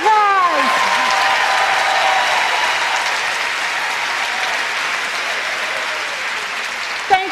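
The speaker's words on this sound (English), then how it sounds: "Please give them a round of applause." A hall audience applauds former presidents at a college ceremony, dense sustained clapping that swells then gradually thins, with a voice speaking briefly over the start.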